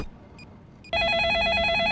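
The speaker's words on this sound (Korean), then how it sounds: "벨이 울리는 순간 전화기를 놓치고" A telephone starts ringing abruptly about a second in, a loud, steady electronic ring that continues to the end after a quiet room.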